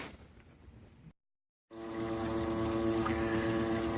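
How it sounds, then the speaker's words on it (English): Water being flushed through a residential water heater's heat exchanger with good flow: a soft hiss, a brief silence, then a steady, loud rushing of water with a continuous pump-like hum. "we are flushing this unit right now. So we've got good flow going through the heat exchanger"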